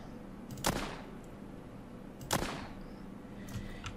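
Two sharp gunshots from a weapon in the zombie survival game The Walking Zombie 2, spaced well apart and standing clear over a low steady game background, with a fainter third shot near the end.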